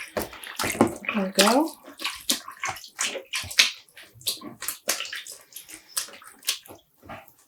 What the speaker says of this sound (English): I'm just pressing down to make sure everything gets wet, helping it along the way.